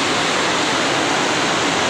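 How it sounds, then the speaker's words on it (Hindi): Floodwater rushes across farm fields after heavy rain, a steady, loud, broadband roar of fast-moving water with no pauses, continuous throughout and heard alone with no voices. "पूरा पानी जा रहा है यहाँ से भी"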